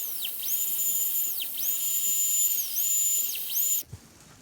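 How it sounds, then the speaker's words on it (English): A high-pitched turbo carver whines against a small piece of a model ship railing, its tone dipping and rising repeatedly as the bit bites, close and continuous before cutting off abruptly. "we're going to use the turbo carver to start to"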